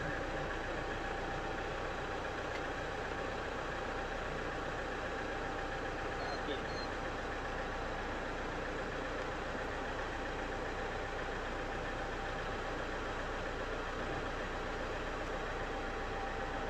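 A test vehicle fuelled with palm biodiesel idles on a dynamometer while warming up, a steady, even engine drone with a constant hum and no change in pace throughout.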